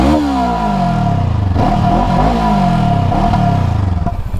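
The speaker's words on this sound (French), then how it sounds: "je vais vous faire chanter la ligne d'échappement" A Honda CL500 motorcycle with its stock exhaust revs hard up close, the engine note rising and falling through several throttle blips over a loud, steady idle rumble.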